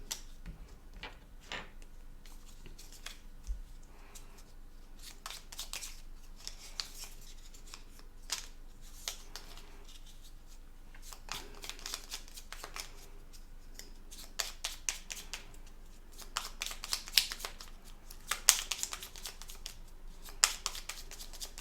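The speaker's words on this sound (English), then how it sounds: "And we are gonna shuffle Gary's tiles." Dense clicking and clacking of small hard game tiles being shuffled and swept around a table for the board game Harvest, a steady rattle that comes in bursts.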